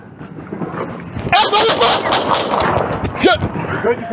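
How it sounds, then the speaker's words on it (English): Gunshots ring out during a police officer-involved shooting in Henderson: a burst of sharp, close cracks over a couple of seconds, mixed with shouting voices and commotion. "Shots fired. Shots fired."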